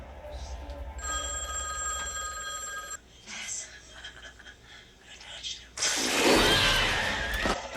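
A telephone rings in a scene from the 1994 horror film Wes Craven's New Nightmare, a repeated electronic trill lasting about two seconds beneath a loud soundtrack with whispery voices, followed by a sudden louder burst of noise.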